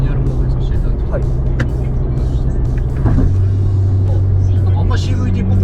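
Subaru sports sedan with an FA engine and CVT run in manual shift mode, a steady low engine drone inside the cabin that drops to a new held pitch partway through as a gear change comes in.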